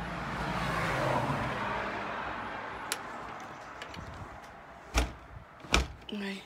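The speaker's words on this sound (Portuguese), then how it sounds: "Ai, fechei minha porta." Someone shuts a house door on a cold night in England. Under a steady rushing background, two sharp, close thuds near the end mark the door closing.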